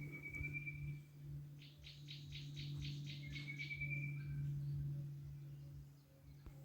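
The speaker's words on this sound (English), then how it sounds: "I'm in love with the beautiful sounds of different birds that rent the air." Several birds sing and call through an old forest, with a rapid series of bright repeated chirps and longer whistled notes standing out over a steady low insect-like drone, fairly close and continuous.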